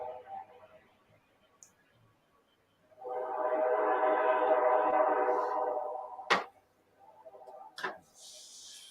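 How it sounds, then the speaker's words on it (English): Northbound train passing at night, a broad rumbling roar that rises and holds for a few seconds before fading, followed by sharp knocks and softer rolling noise afterward. "That's the northbound train."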